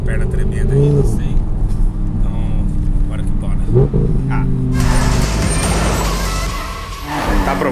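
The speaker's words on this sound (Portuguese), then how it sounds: "Gostou do escape ou não?" An Audi R8 engine growls at a low idle, then surges into a loud, raspy exhaust roar about two-thirds through. People talk close by over the engine noise.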